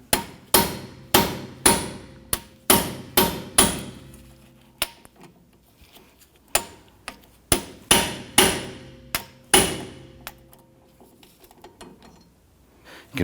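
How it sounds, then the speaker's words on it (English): A hammer repeatedly strikes an impact screwdriver to break loose the brake drum screws on a 2017-2020 Hyundai Elantra, giving about twenty sharp, ringing metallic blows in uneven bursts with short pauses between. "We're going to use an impact screwdriver here to go ahead and loosen these."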